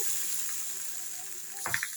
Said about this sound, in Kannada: ಒಗ್ಗರಣೆ ಮಾಡ್ಕೊಂಡಿರೋದನ್ನ ಈ ಮಜ್ಜಿಗೆ ಇದಕ್ಕೆ ಮಿಕ್ಸ್ ಸೇರಿಸ್ತಾ ಇದ್ದೀನಿ